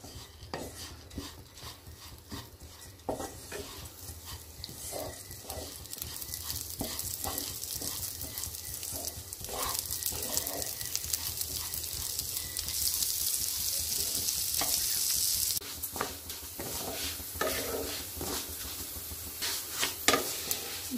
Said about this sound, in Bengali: দেখুন এর মধ্যে আমি 1 চামচ ঘি দিয়ে এটাকে আমি ভালো করে ভেজে নেব।